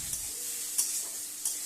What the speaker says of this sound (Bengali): তো আলুটা খুব ভালোভাবে লাল লাল করে ভেজে নেব।